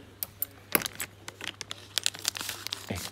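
Scissors snip and crinkle through plastic packaging, giving a quick run of sharp cuts, rustles and crackles close by under a low steady hum, with no speech.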